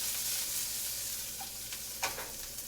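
Green onion sizzling in a hot pan for an omelette, a steady soft frying hiss with a brief clatter of stirring near the end, no talk.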